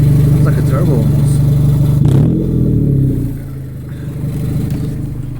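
A car engine with a broken resonator pipe on a rusted exhaust revs hard nearby, a loud, raspy roar that climbs and then falls away, with people talking over it.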